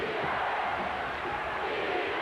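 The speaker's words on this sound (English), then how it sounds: "Defense shouts the crowd" A packed basketball arena crowd at a 1983 NBA Finals game between Philadelphia and Los Angeles roars and chants for defense, a dense, sustained wall of massed voices with no single speaker standing out.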